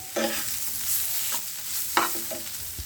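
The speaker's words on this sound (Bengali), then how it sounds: "ভালো করে তেলের মধ্যে আমি নাড়িয়ে চাড়িয়ে নেব" Bottle gourd leaves being stirred while frying in mustard oil, a continuous soft sizzle broken by a few distinct scraping strokes of a spoon across the pan.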